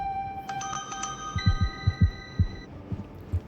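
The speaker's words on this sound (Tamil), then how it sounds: "ஒரு நொடி அவளோட ஃபோன் ரிங் அடிச்சது." A mobile phone ringtone in a Tamil mystery audio story: a steady electronic melody of stacked tones, with low rhythmic thumps like a heartbeat pulsing underneath.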